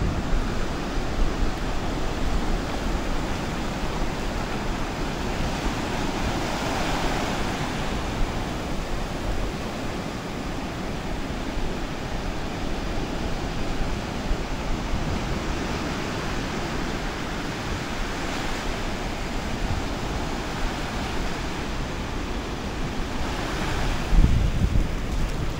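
Waves break on a steep-shelving fishing beach, a continuous broad roar of surf with slow swells rising and falling, mixed with wind rushing across the microphone and no voices.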